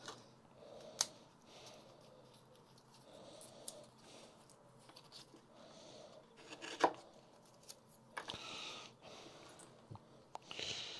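Scissors cut shapes out at a desk, making faint, sparse snips and crisp clicks spaced irregularly through a quiet room, along with a few soft breaths and small handling noises.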